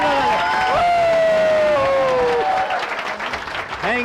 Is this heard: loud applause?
yes